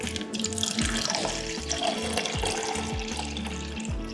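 Water pours steadily from a tap into a glass while measuring water for ham, a continuous close rushing splash with a faint rising fill tone and no talking.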